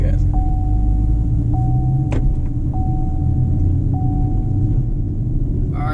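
A Chevrolet SS Camaro with a manual gearbox, its engine giving a loud, steady low rumble from inside the cabin as it pulls forward, while people talk.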